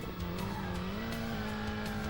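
A race car from Ridge Racer in a retro racing video game brakes hard and skids, a steady engine drone with tire squeal lasting about two seconds, loud and close, no talking.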